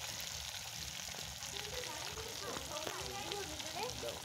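Ilish fish fries in a pan, a steady broadband sizzle and crackle running throughout, with faint voices talking underneath the frying noise.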